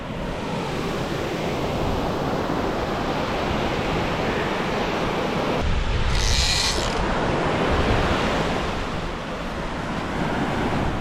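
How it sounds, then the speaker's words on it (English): Big ocean waves and surges roar as constant broadband surf wash while drone fishing, with wind buffeting the microphone and a brief louder burst midway. "You can definitely hear the waves in the mic for sure."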